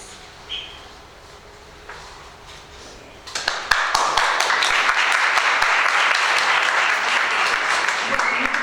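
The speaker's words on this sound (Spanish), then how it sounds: "Gracias por los aplausos" An audience at a book presentation bursts into steady applause after a few seconds of quiet room noise, the clapping continuing evenly to the end.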